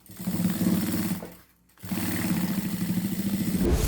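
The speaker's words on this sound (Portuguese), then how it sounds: "Trago aqui pra máquina, ó. E vou passar uma costura rebatendo esse meu fole." A sewing machine topstitches a seam across the gusset of a handmade thermal bag, running in a steady, close mechanical whir, pausing briefly, then starting again.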